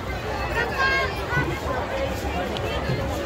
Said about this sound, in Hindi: देखो कितनी भीड़ हो रही है अंदर, भयंकर वाली भीड़ हो रही है।